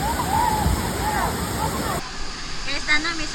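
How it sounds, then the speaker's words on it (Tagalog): Kawasan Falls in Cebu, a waterfall pouring steadily into a pool, a broad constant roar of falling water throughout, with people's voices and splashing mixed in and whistly tones riding over the rush. "at ito ang tinatawag na Kawasan Falls"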